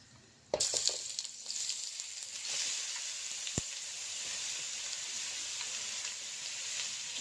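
Grated beetroot is added to a hot pan and begins frying, starting with a sudden clatter and then settling into a steady, close sizzle and hiss with an occasional scrape of stirring.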